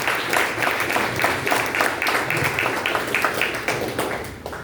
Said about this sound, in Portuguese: Aplauda o Senhor, pastor Tony, por favor